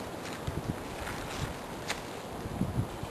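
Wind at an outdoor camp rushes as soft, continuous noise with mild gusts and faint rustling bumps, fairly quiet, with no voices over it.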